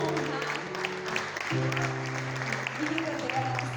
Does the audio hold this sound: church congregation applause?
yes